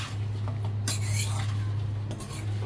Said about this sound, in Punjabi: ਸਾਰੀਆਂ ਮਿਰਚਾਂ ਮਿਕਸ ਕਰ ਦਿੰਨੇ ਆ ਚੰਗੀ ਤਰ੍ਹਾਂ ਰਲਾਉਣਾ ਕਿ ਸਾਰਾ ਮਸਾਲਾ ਜਿਹੜਾ ਆਪਣਾ ਮਿਰਚਾਂ ਨੂੰ ਲੱਗ ਜੇ